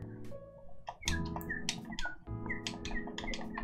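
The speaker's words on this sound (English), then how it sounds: "That's what birds sound like." Birdsong in the garden video game Shu's Garden: short bright chirps and tweets repeat in quick bursts over a soft game soundscape, close and fairly clear.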